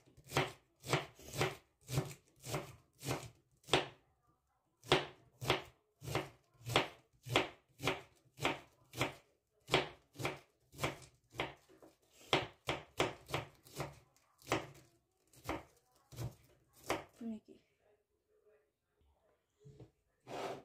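A knife chops cabbage into long strips on a board in a steady run of crisp, close, evenly spaced strokes, pausing briefly a few times, with a voice heard near the end.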